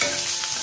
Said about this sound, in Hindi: प्याज मिर्ची अदरक लहसुन को अच्छी तरह से भून लें